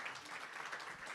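A conference audience gives a speaker a short, soft round of applause, an even, distant patter of many hands heard alone.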